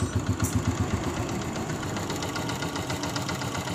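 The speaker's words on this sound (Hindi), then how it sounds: "अब मोटर बाइक को हम स्टार्ट करते हैं।" A 2022 Honda CG125 motorbike engine runs at idle, close and steady, with rhythmic thumping pulses at first that smooth into an even chugging drone.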